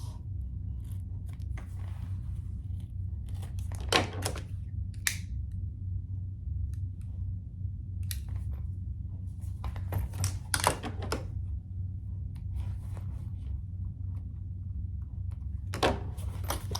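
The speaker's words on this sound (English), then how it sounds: "we'll cut off our threads and any excess" Sewing scissors snip off loose threads and excess fabric from a pouch made on a domestic sewing machine, a few crisp, sharp cuts spaced out over a low steady hum.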